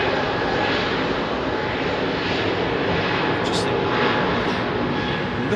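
A Lufthansa Airbus A321 P2F freighter jet roars steadily at Heathrow at night, a broad sustained engine rumble with faint voices audible in the background.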